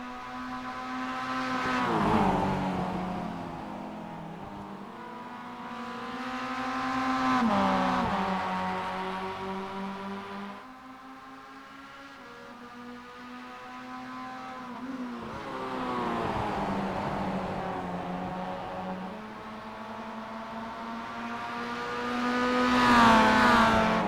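Spec Miata race cars lap Watkins Glen, engines droning and revving in repeated waves as they accelerate out of corners and downshift, the pitch climbing and falling across a long stretch of racing with no voices.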